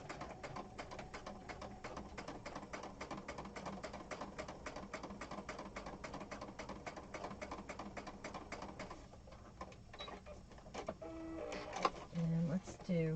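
Sewing machine stitching a scrappy junk journal cover: a steady, fast mechanical whir-and-tap lasting several seconds, stopping, then a few shorter stitches and handling clatter, with a voice talking softly.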